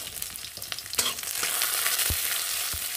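Dry chili, garlic and nigella seeds fry in hot oil with a bright continuous sizzle, interrupted by a few utensil scrapes and knocks as they are stirred, with no speech.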